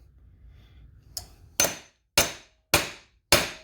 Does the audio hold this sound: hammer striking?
yes